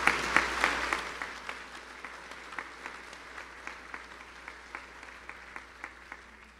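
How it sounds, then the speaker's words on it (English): A university athletics announcement gathering breaks into applause, a modest audience clapping with distinct individual claps audible over a steady background, moderately distant. "So please give a hand to the people that are here as well."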